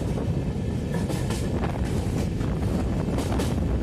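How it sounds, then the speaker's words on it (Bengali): A passenger train on the Howrah to Kota route crossing the Son river bridge, heard as a steady, loud rumble of rolling rail cars with wind buffeting the microphone throughout. "ট্রেন এখন সোন নদীর ব্রিজ ক্রস করছে।"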